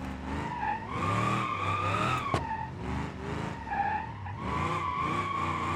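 A car drifts around Hirochi Raceway in BeamNG.drive, tires squealing in long, wavering skids over a droning engine, loud and close, with one sharp click midway.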